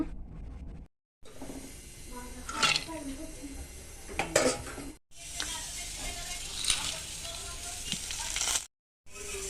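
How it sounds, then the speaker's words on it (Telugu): Dry coconut, almonds, cashews and raisins frying in ghee in a pan, a soft steady sizzle with occasional metal scrapes and clinks of a spoon, and someone talking over it between brief cuts. "కొద్దిగా జీడి పలుకులు, తర్వాత ద్రాక్ష, ఎండు ద్రాక్ష, ఇవన్నీ నెయ్యిలో వేయించేసుకుంటున్నాను."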